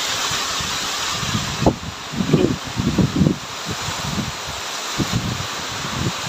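Gusts of wind rustle through vegetable garden plants such as eggplant, tomato and bitter gourd in irregular bursts over a steady breezy hiss, fairly close, with no one speaking.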